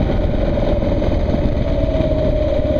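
A motorcycle engine idles steadily nearby with a continuous low rumble and slight irregular popping, running on alone without talk for the full stretch.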